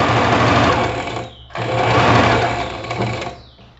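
A sewing machine runs at speed through fabric with a loud, steady mechanical whir, pausing briefly before starting again and then slowing to a stop.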